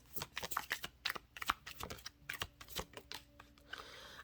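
Tarot cards are shuffled by hand, giving a rapid run of crisp, papery riffles and taps, close and fairly quiet, with no talking.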